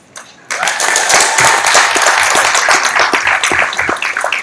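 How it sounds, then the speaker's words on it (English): Loud audience applause at a downtown San Jose community education action meeting, bursting in suddenly after a brief quiet and continuing as a dense, steady roar of many hands clapping. "Let's give our officials another great round of applause for their leadership tonight."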